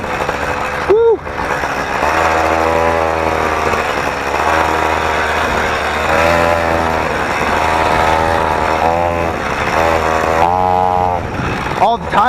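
A motorized BMX bike with a new exhaust running, a loud buzzing small-engine drone that rises and falls as the rider throttles up and down, steady and close throughout.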